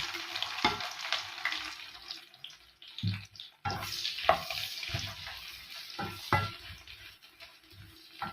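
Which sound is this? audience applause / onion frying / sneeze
onion frying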